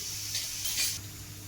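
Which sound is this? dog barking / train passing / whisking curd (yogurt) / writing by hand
whisking curd (yogurt)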